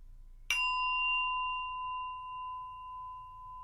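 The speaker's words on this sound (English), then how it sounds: "Final bell." A single meditation bell is struck once as the final bell of a session, its clear ring sounding near and then sustaining with a long, slowly fading tone in a quiet room.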